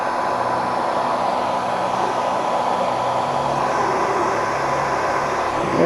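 Hair dryer blowing steadily to dry a plastic part from a BMW F650 motorcycle, a loud, constant airy whoosh with an even hum that holds unchanged throughout.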